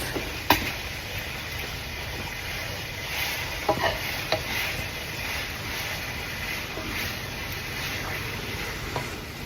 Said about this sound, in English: This is me mixing up the tomato paste and the onions.